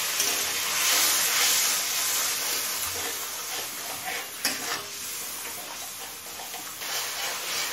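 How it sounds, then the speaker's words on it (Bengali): Spice masala of cumin, turmeric and Kashmiri chili powder fries over high flame with a little water, giving a steady close hiss and sizzle with occasional stirring clicks, with no talk. "অল্প জল দিয়ে মশলাটা কষিয়ে নেব।"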